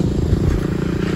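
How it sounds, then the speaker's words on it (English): Windmills at a wind farm roaring like a jet engine, a steady loud low rumble with wind-like noise throughout, no voices. "And the thing is like roaring, jet engine roaring."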